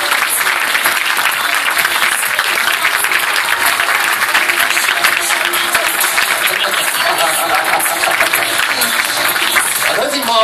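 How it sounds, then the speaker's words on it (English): An audience at a precision driving demonstration at Ford headquarters applauds continuously, a dense, loud, sustained wall of clapping with faint crowd voices underneath. "Keep clapping until you're sufficiently glad that the gap is small enough."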